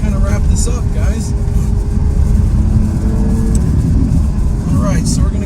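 A Ferrari F12 Berlinetta V12 with a Valvetronic exhaust runs with a loud, continuous engine roar close by, with voices heard faintly over it.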